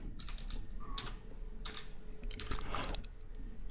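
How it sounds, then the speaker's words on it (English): Computer keyboard keys tapped in short irregular bursts, close and moderately loud, with a denser flurry of clicks near the end over a steady low background hum. "I'll just type in Google"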